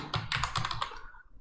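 Quick keystrokes on a computer keyboard while code is typed, a short close-up burst of clicks over a low background hum, with no talking.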